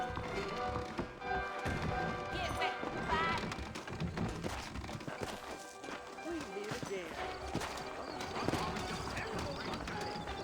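Horse hooves clip-clop steadily under a busy soundscape in the video game Red Dead Redemption, with a voice talking over the rhythmic clatter.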